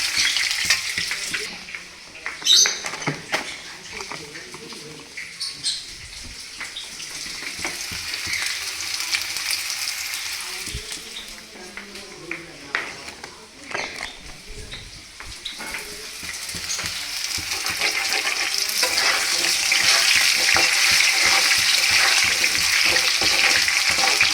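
Oil sizzles and crackles steadily as potatoes fry in a pan, with occasional stirring scrapes; the sizzle grows louder and denser toward the end.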